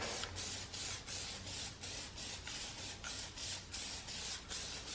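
Aerosol can of Plasti Dip rubber coating sprayed onto a car, a steady hissing spray broken into rhythmic bursts as the can sweeps back and forth, fairly quiet and close with no talking.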